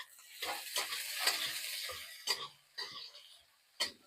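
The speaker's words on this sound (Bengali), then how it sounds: "দেখো, নাড়াচাড়া করে আমি ভাজে নেবো।" Eggplant with salt frying in a pan on a home stove, a crisp sizzle broken by several short bursts of stirring and scraping, close and alone.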